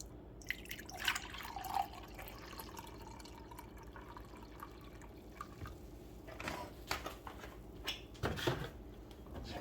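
Bragg's apple cider vinegar poured into a measuring cup in a kitchen, a soft liquid trickle with small splashy bursts and clinks, close and quiet, and no one speaking.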